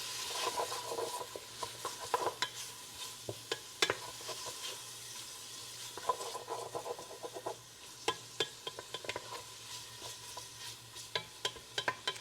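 Bacon sizzles in a pot for baked beans with a soft, steady frying hiss, broken by frequent sharp scrapes and clacks of stirring against the pot.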